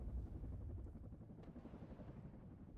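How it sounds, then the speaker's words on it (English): Faint, continuous rotor chop of OH helicopters in the WARNO war game, a low steady thrum with no talk over it. "The OH helicopters in the back for AA support."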